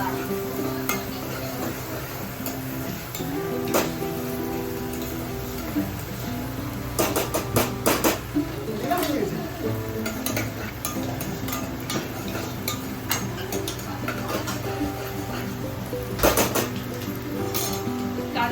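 Onions frying in a pan while cooking mutton paya soup, a steady close sizzle with repeated spatula scrapes and metallic clinks against the pan, a few louder strokes in quick clusters.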